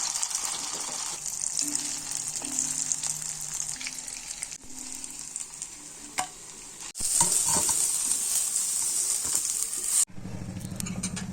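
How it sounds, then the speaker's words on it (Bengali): Pieces of dhundul (sponge gourd) frying in a little oil, a steady sizzle with stirring scrapes throughout, louder and brighter in the second half, with a brief water-like rush near the end; no talking. "এইবার দুকাগুলোকে অল্প তেলে ভেজে নিব"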